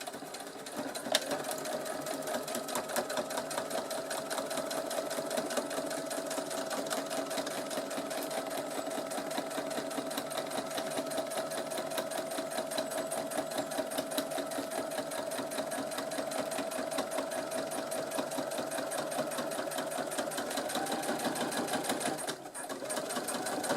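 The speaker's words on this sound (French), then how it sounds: "Maintenant, je fais la surpiqûre au niveau du petit bourrelet" A sewing machine topstitches a multi-pocket fabric pouch near a small rolled edge, running in a fast, steady mechanical chatter up close, then stopping briefly near the end.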